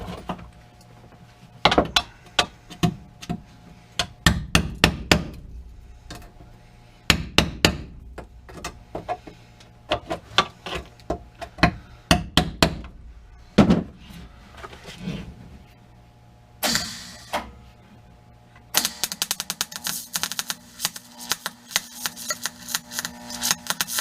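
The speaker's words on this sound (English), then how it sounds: "I'm going to put a little weld over here." Welding on the rear footwell floor of a Geo Tracker: bursts of crackling arc alternate with sharp hammer-like knocks and clatter, then a sustained loud sizzling buzz near the end, close by with no talk.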